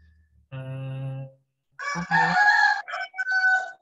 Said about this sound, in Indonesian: ada suara ayam lagi